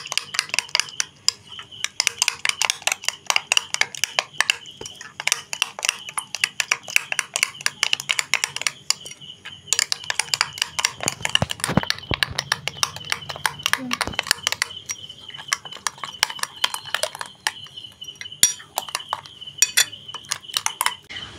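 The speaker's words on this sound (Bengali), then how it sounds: "এবার এই মিশ্রণটাকে আমরা খুব ভালো করে মিশিয়ে নেব।" Paratha batter with yogurt and baking powder is stirred in a bowl, the spoon clinking and scraping against the dish in quick irregular bursts, with a voice speaking over much of the mixing.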